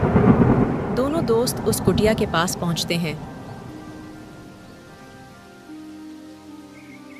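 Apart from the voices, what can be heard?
rain and thunder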